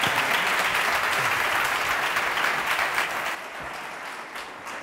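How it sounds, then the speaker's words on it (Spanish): Loud, dense applause from a forum audience on agrifood and export markets, honoring the day's guests; the clapping holds steady for about three seconds, then drops to a thinner, quieter patter. "Yo creo que se merecen un aplauso a nuestros invitados de hoy."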